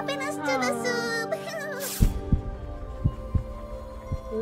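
Slow thudding heartbeats in the dark storybook game Little Misfortune, a strong pounding pulse that starts abruptly after a brief bright musical passage and repeats in an uneven rhythm, close and heavy.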